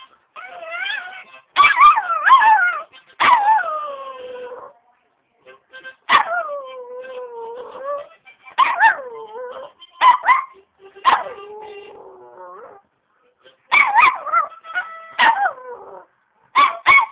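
A dog yowls and howls in a string of wavering, drawn-out cries with short pauses between, loud and close, sounding almost like singing along.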